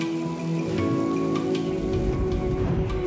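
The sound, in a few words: rain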